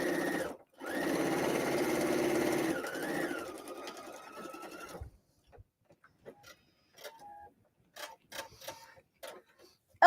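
A sewing machine stitching fabric for a paper-pieced kimono tea cozy runs in a steady whirring burst of a few seconds, slows and stops, then gives way to faint clicks and handling noises.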